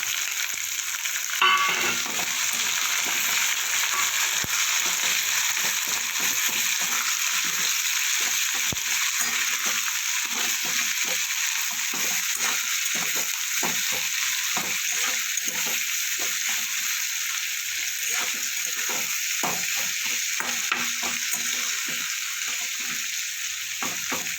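Garlic and large onions frying in a pan, a dense, steady sizzle with rapid irregular crackles and spatters running throughout, close and loud with no talk.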